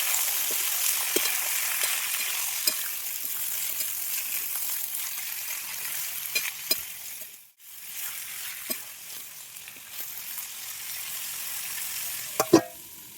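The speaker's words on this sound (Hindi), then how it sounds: "अब कटी हुई सब्जियों को हम इसमें डाल के अच्छे से चलाकर मिक्स करके ढक देंगे इसे।" Chopped vegetables stirred into hot mustard oil with panch phoron in a village kitchen: a constant bright sizzle with occasional spoon scrapes and clinks, a brief dip midway, close and without voices.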